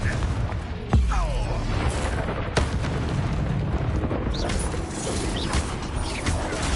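Confringo fire spell explosions in the Hogwarts Legacy video game: booming blasts amid a dense, continuous roar of combat effects and mechanical clatter, loud throughout.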